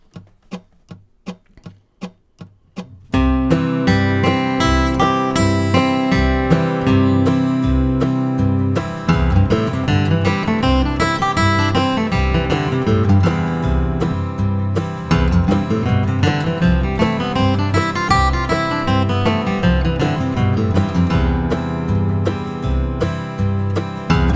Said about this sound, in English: I'm going to play the arpeggio and the 3 associated scale patterns